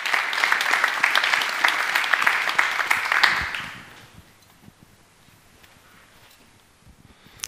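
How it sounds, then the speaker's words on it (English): Audience applause after a technical conference talk, a dense even burst of clapping for about three and a half seconds that then cuts off into a quiet room. "a round of applause"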